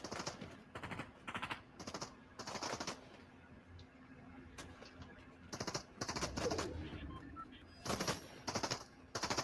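Fortnite gunfire plays as quick bursts of rapid shots in several clusters, moderately loud, with quieter game ambience and faint sounds between the bursts.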